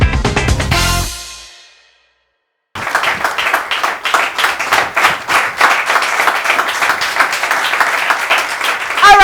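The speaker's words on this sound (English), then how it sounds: "with that applause, you know that there are students in the house" Music ends abruptly, then after a brief silence a student audience breaks into sustained, dense applause with lots of clapping.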